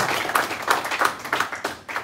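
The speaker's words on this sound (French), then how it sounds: "Applaudissements" Audience applause at a live citizens' summit event in France, a short burst of rapid, dense clapping from a seated crowd, steady and fairly close throughout.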